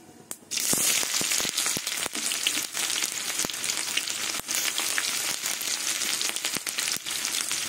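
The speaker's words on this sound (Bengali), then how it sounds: "তেল গরম হয়ে গেছে, এবার 5 ফোড়ন আর একটা শুকনো লঙ্কা ফোড়নে দিয়ে দেবো। এবার পেঁয়াজ দিয়ে দেবো।" Five-spice seeds, a dried chilli and onion hit hot oil with a sudden loud sizzle that keeps crackling, broken by sharp pops and spatters, close and with no talking.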